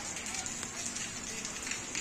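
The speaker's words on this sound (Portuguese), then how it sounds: "Graças a Deus, muita chuva na nossa cidade." Heavy nighttime rain in Crateús, Brazil hisses in a steady dense wash with scattered patters of drops on surfaces, constant and moderately faint with no voices.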